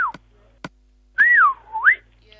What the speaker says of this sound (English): Sorry about whistling